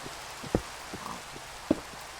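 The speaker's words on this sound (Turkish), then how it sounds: "Yağmur yağıyor." Minecraft rain patters in a continuous, moderate hiss, with two sharp clicks standing out above it.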